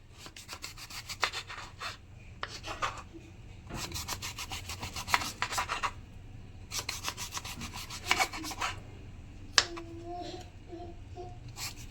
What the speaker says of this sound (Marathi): चला आता याला बारीक पीस करून घेऊया याचे कट करून घेऊया